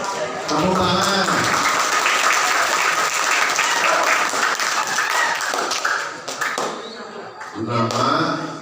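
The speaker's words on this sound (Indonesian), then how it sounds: "Tepuk tangan." An audience at an Islamic lecture breaks into applause, a dense burst of many hands clapping that swells after a brief voice, holds steady, then thins out as talking returns near the end.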